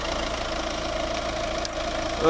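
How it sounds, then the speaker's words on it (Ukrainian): A 2015 Peugeot 3008 1.6 HDi diesel engine with automatic transmission idles steadily up close with a low, even rumble and faint knocking, then revs up briefly at the end. "Ось робота двигуна."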